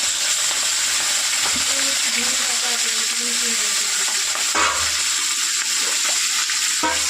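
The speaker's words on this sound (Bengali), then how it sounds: "তো বন্ধু তেল তেতে গেছে, তো এবার আমি চুনো মাছটা করে নেবো, ভেজে নেব।" Small chuno fish frying in hot oil, a steady loud sizzle throughout with faint tonal background voices or music and a few brief clatters.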